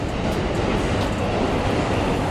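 A train passes close by on a Tokyo street, a steady broadband rumble of rail cars holding at even loudness for the whole stretch with no voices over it.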